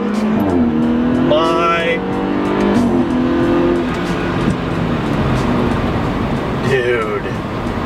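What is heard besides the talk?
tuned BMW car exhaust revving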